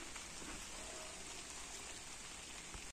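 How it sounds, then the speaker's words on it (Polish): Rain begins to fall in a garden, a steady soft hiss of drops on surfaces, faint and even throughout with no one speaking. "Deszcz zaczął padać."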